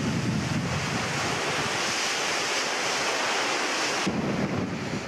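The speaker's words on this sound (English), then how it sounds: "Watch what happens now as a 40-knot gust tries to force Sundier around." Strong 40-knot wind gust roaring across an offshore sailing yacht at sea, with waves rushing and surging, a loud continuous wash of wind noise and surf that eases slightly near the end.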